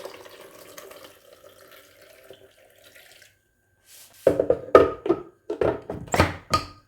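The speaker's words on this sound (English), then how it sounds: "I'm just gonna add in some warm water." Warm water runs from a tap into a blender holding coconut, a soft trickle at first, then after a pause a series of louder splashing pours and thunks.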